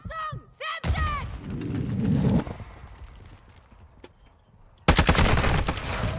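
Gunfire in the multiplayer video game Call of Duty, with a loud, dense automatic burst near the end, after brief voices and muffled in-game rumbling and thuds.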